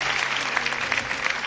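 A studio audience claps together on cue during a televised preacher's broadcast, a dense, steady burst of applause with no pauses, loud and close.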